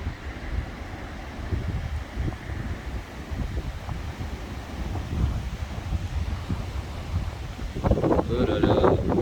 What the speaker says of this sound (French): c'est quoi ces rafales qui arrivent?